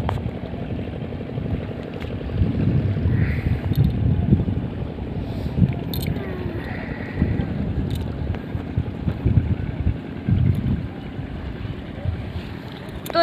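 A boat goes by on the Datta river beside the Sundarbans mangrove forest near Marichjhapi. Its motor is a low, distant rumble mixed with wind buffeting the microphone and faint watery sounds.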